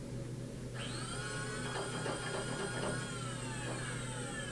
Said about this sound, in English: then it's screwed onto the grinder and ground for a short period of time